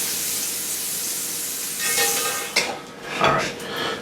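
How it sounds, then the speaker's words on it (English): Butter sizzling and hissing in a hot pan, a steady close frying hiss with a couple of brief clatters and scraping stirs partway through. "I have about 2 tablespoons of butter, and you can hear that it's nice and hot"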